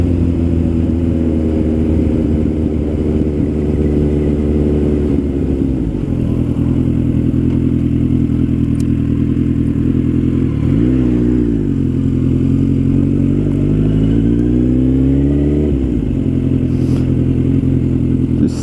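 A 2008 Suzuki Bandit 1250S motorcycle engine drones steadily up close as it rides, its pitch dipping and climbing through gear changes and throttle shifts, with no talk over it.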